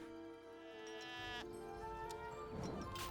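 Sheep bleat in the real-time strategy game Age of Empires 3, a couple of close, wavering calls over soft background game ambience.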